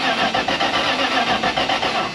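An old Dodge engine with a knocking rod, left sitting for years, cranks over in a steady rapid pulsing rhythm and begins to catch. It is loud and close, with no talking.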